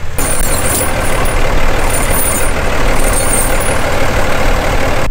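An ATV engine runs steadily at night on a snowy hill, a loud, continuous low rumble that holds without a break throughout.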